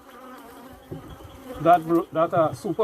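Honeybees buzzing at a beehive whose field forces have died, a dense insect drone that swells loudly in pulsing bursts while a beekeeper speaks briefly.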